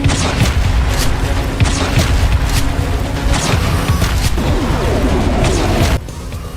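Vortex cannon in the Huntdown video game fires a rapid series of loud, heavy booming blasts with crashing impacts, dense and continuous before cutting off abruptly near the end.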